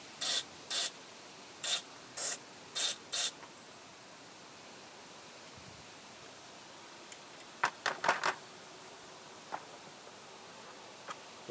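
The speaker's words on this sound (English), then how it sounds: "I guess we'll just spray this all out. Or carb cleaner." Carb cleaner hisses out of an aerosol can into a whipper snipper carburetor in six short, sharp bursts, followed by faint scattered clicks and light handling noises in an otherwise quiet room.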